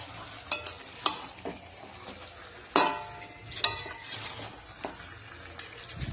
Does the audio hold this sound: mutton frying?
yes